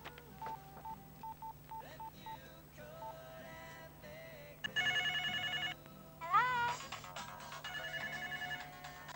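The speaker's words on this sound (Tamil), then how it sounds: "அப்பா, ரிங் போகுது." Phone tones on a call in a Tamil film scene: a series of short keypad-style beeps, then repeated ringback or ringtone bursts over a steady background hum, moderately loud and clear, with no talking.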